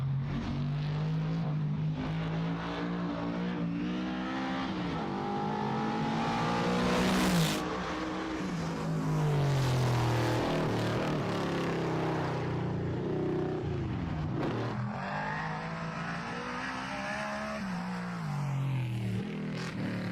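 Race car at a live mountain event accelerating out of a corner onto the backstretch, engine note climbing and dropping through gear changes, loud and continuous, with a sharp swell midway and another shift near the end.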